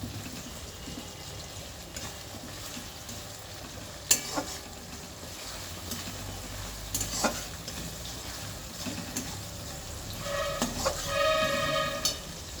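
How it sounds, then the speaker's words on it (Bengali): Chopped tomato goes into a frying pan of onions, where it sizzles steadily under stirring. A few sharp utensil clatters stand out, with no voices. "এবার দিয়ে দিচ্ছি একটু টমেটো কুচি।"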